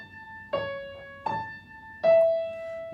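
Piano plays the right-hand intro of a song: three clear, separate struck notes, each sustaining and ringing out, with the last held longer, close and alone.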